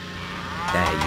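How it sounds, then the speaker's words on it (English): A cow moos from a Thomas and Friends video game, a single drawn-out bellow about a second long, loud and close against the game's background. "Den must deliver the cow to Farmer McColl's farm"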